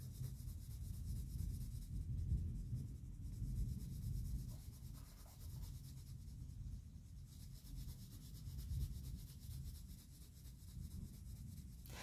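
Soft, steady scratching of a colored pencil on paper, close and quiet, with continuous back-and-forth strokes and no talking.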